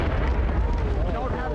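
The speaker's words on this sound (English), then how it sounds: "Their artillery is on point." Artillery barrage in a PC video game, a dense continuous rumble of booming explosions with low-end weight throughout, heard under voices.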